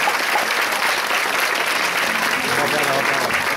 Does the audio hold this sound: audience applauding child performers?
yes